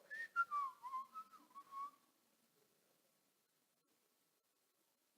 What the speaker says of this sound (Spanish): Yo silbo en la casa, silbo, ando silbando